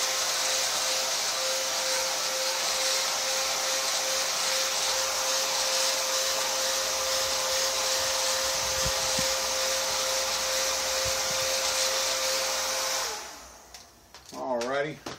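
A power tool grinds steadily at a hard, high-pitched whine for several seconds while it works on a painted RC car body, then cuts off and spins down, followed by brief handling noises up close.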